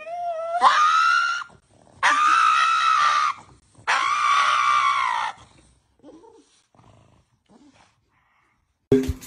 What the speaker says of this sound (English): a pug who turns a simple nail trimming session into a full blown theatrical performance.